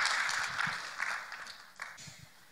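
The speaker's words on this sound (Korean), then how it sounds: "우리 박수로 격려로 우리 환영하십니다" An audience at a Korean missionary lecture claps to welcome the second speaker, a dense, fairly quiet patter of many hands that gradually thins and fades over a couple of seconds.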